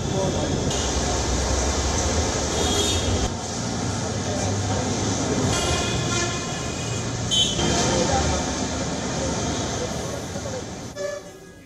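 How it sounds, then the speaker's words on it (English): A passenger train running in Bangladesh, its horn sounding in repeated long toots over a steady rumble of rail movement, loud and close, fading near the end. "Passenger train services have resumed after weeks of suspension."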